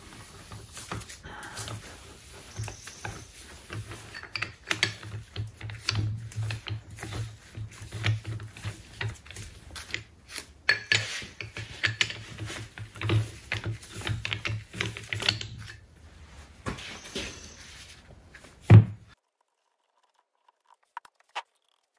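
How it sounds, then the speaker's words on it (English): Jaws being spun out of a rusty 4-jaw lathe chuck: a long run of close, rapid metallic ticking and rattling patter, steady for about eighteen seconds, ending in a single louder clunk and then near silence. "I'm gonna take these chuck jaws out,"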